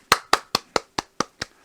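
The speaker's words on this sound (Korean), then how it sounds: "함께 박수." An audience claps together in a slow, even unison rhythm, eight crisp loud claps evenly spaced, close and with no voices over them.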